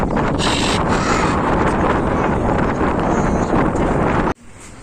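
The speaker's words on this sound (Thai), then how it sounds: "ลมแรงโอ้มันแรงพัดมา" Strong wind buffeting the microphone outdoors on a bridge in Kanchanaburi, a loud roaring rush that holds steady for several seconds, then cuts off abruptly near the end.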